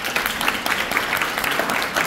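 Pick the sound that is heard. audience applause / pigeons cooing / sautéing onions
audience applause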